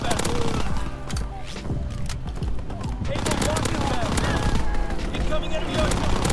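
A Tommy gun fires in Call of Duty WW2, with rapid gunfire bursts and battle noise running continuously and loudly from start to end.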